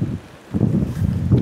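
Wind gusts buffet the microphone at a rainy campsite during a motocamping trip at Camp Gilmore, a steady low rumble that briefly drops off and then surges back strong and close.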